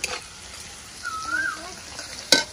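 Food frying on an outdoor wood-fired clay stove, a soft steady sizzle with a faint whistling tone in the middle and a sharp utensil clack near the end.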